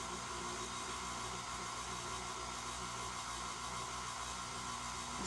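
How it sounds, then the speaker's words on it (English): Electric stand mixer beating chocolate layer cake batter, a constant whirring motor hum with a steady broadband rush, close and even throughout, with no talking. "All right, so I'm going to turn my mixer on."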